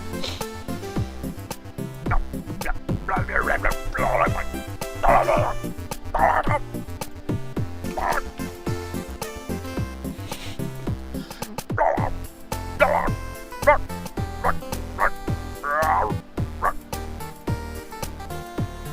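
Someone imitates a small dog's barking for a 3D animated dog, with scattered short yips and woofs over about twenty seconds against a steady musical background.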